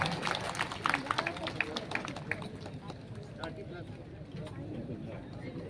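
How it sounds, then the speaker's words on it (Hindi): Applause from an audience at a protest rally against APFRA 1978, a burst of clapping that peaks early and thins out, with voices talking over it. "ताली तालियां।"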